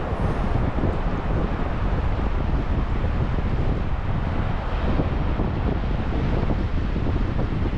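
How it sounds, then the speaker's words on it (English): Steady, heavy wind buffeting the microphone outdoors on the coast at Galveston, a constant low rumbling roar with no letup throughout. "As you can hear, it still sounds a little windy"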